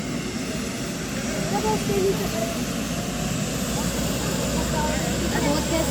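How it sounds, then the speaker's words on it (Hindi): Helicopter engine running and spinning up ahead of takeoff for a politician's arrival at a village gathering in India, a steady loud whirring drone throughout, with people talking over it. "और ये हेलीकॉप्टर उड़ने ही वाला है"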